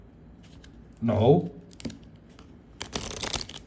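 A deck of playing cards riffled and shuffled by hand, a short crisp burst of fluttering card noise late in the moment, following a brief spoken word nearby.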